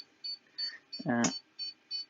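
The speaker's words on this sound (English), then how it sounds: "here you see it starts beeping and making noises" A Siglent SPD3303X-E bench power supply emits short electronic beeps at a steady pace, fairly quiet, with a brief burst of low buzzing noise in the middle.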